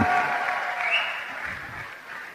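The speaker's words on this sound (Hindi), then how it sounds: "जोरदार ताली मारे दर से." Loud, continuous applause from an audience at a motivational talk, a steady wash of clapping that holds for the whole stretch without letting up.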